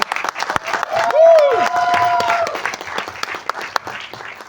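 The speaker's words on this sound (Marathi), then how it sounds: "जोरदार टाळ्या प्रिया साठी झाल्या पाहिजे पुन्हा एकदा" An audience claps at a live event. The dense applause is heard close up while a loud whoop or whistle rises over it and a voice cuts in briefly.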